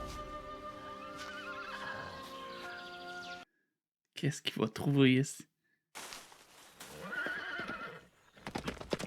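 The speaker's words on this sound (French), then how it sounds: "Oh, un beau cheval." A horse whinnies loudly between bursts of speech, with a shrill neigh standing out near the middle and voices before and after.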